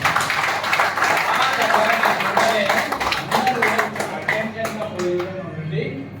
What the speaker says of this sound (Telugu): మీ అందరూ కూడా చప్పట్లు కొట్టుకోవాలి, రియల్గా కొట్టాలి.